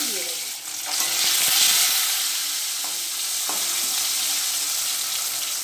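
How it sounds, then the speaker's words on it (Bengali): Two pieces of katla fish frying in hot oil in a pan for a Bengali fish curry, a steady broadband sizzle throughout with a few faint clinks of utensils, close and fairly loud, no talking. "এই 2 পিস মাছও ভালোভাবে ভেজে নেব।"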